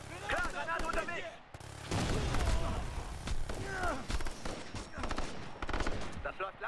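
Machine gun bursts and grenade blasts in the shooter game Ghost Recon Future Soldier, loud and dense, with voices shouting over the chaotic combat.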